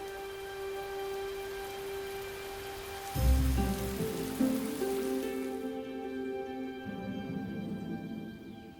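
Summer rain in Dongguan patters steadily on surfaces, a soft continuous hiss laid under gentle sustained music tones, with a brief heavier thud partway through.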